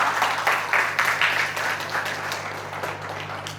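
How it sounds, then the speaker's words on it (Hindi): Audience clapping at a Gayatri Parivar spiritual event in Pune, a moderate burst of applause in a hall with a steady background hum that gradually eases off. "एक बार जोरदार तालियां हो जाएं इनके लिए"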